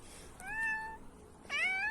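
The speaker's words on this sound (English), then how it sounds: "Here is an outdoor cat politely asking for a little water from the water pump." An outdoor cat at a water pump gives two clear, drawn-out meows separated by a short pause, close and alone against a quiet background.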